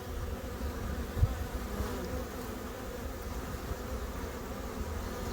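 Honeybees buzzing at a hive in autumn, a steady close drone of many insects that runs throughout with no voices.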